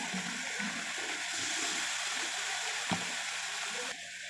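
Boiled radish pieces fry in oil with a quiet, even sizzle and bubbling hiss close by. A single soft knock comes partway through.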